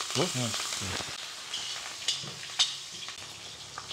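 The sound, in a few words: cumin and green chillies frying in pan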